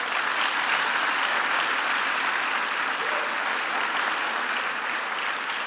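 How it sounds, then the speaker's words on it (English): A graduation audience claps in sustained, even applause for several seconds, a dense wash of hands with no speech over it. "I want to ask you to give him another round of applause."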